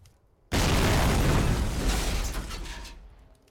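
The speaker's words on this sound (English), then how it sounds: "Another explosion. I think they're blowing up all the cars outside trying to get in." An explosion goes off in the Survive The Nights zombie survival video game, a sudden, loud, full-bodied blast that rumbles and slowly fades over about three seconds.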